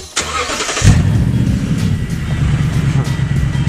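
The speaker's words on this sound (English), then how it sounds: "Just listen to the startup." A prerunner truck's engine cranks briefly, catches and fires into a loud, rumbling idle through its exhaust, close up and sustained to the end, after a short moment of quiet.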